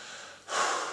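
A person breathes heavily, a quieter exhale giving way to a louder, rushing breath close to the microphone, with no talk.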